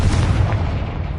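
A Confringo spell explosion from the Hogwarts Legacy video game, a single loud, short, deep boom that rumbles briefly, with no talk over it.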